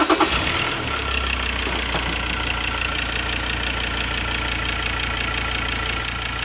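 A diesel engine fires up and settles into a steady, close idle during an injector cleaning with Liqui-Moly Diesel Purge, a low continuous rumble with faint knocking running without a break, and no voices.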